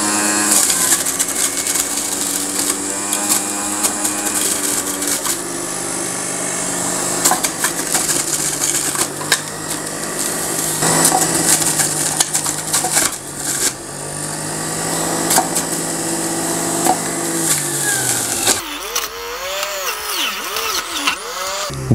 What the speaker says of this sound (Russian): Это центробежная соковыжималка, так что в самом соке мякоти минимальное количество.